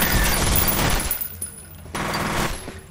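Gunfire in the shooter game F.E.A.R. comes as a dense, loud burst of rapid shots, which cuts off, leaves a short lull, then returns.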